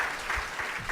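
A small group in a conference audience claps, a sparse, moderately quiet patter of hands lasting about a second, with no speech over it.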